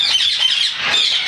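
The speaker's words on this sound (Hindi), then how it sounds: "ये येलो रिंग नेक का ब्रीडर पेयर है।" Yellow ringneck parakeets from a breeding pair squawk loudly and continuously, a shrill overlapping chatter of harsh calls with no pauses, close by in an aviary on a Multan bird farm.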